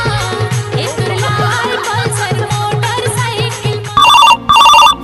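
A telephone rings in two short, loud electronic bursts near the end, following a busy stretch of music and rhythmic background sound.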